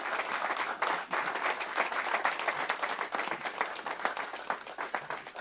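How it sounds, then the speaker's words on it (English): An audience applauds a panelist joining the stage at a live panel event, dense steady clapping from many hands throughout, close and fairly loud with no voices over it. "Give her a big round of applause"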